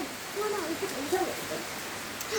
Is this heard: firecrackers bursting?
no